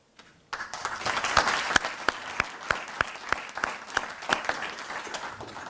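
A seated audience at a professorial inauguration ceremony bursts into applause, a dense, fairly close clatter of hand claps with sharp individual claps standing out, starting abruptly and continuing steadily.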